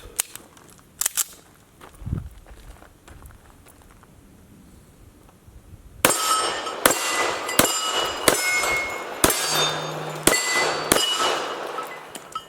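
Sig P220 pistol fired on a shooting range at steel targets: after a quiet stretch, about nine sharp shots ring out in an uneven rhythm, each followed by a bright metallic clang from the steel.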